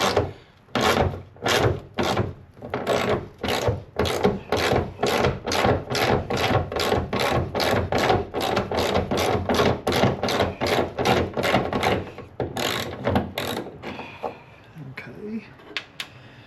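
A ratchet working a bolt loose on a 2003-2008 Subaru Forester hood strut, a steady run of close, sharp clicking strokes in even rhythm that slows and trails off near the end.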